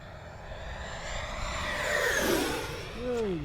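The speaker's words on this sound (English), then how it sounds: "I've never heard a jet like that." An FMS Super Scorpion radio-controlled jet with a stock 90mm electric ducted fan flies past outdoors, its whining roar swelling and sliding in pitch as it sweeps by, then a fresh rising whine near the end.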